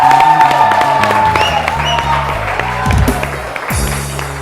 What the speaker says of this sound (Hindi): तालियां जोर से जुनैद भाई के लिए,